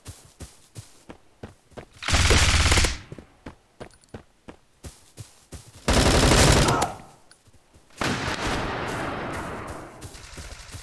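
Gunfire from a browser shooter video game, with rapid single shots in a steady rhythm broken by dense full-auto bursts, close and loud over a faint voice.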